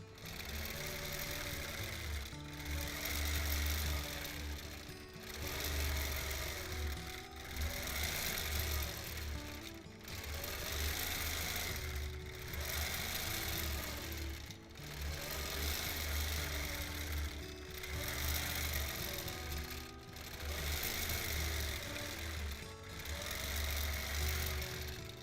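A free motion quilting machine stitches across a rolled-up quilt with a steady mechanical hum and rapid needle chatter, surging and easing in regular waves every few seconds over a long stretch, with no talking.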